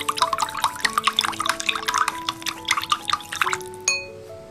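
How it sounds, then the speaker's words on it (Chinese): A spoon clinks and swirls through a bowl of seasoning with pepper, water and sesame oil, producing a quick series of bright, close tinkling taps that end with one final ringing knock. "给它搅拌搅拌。"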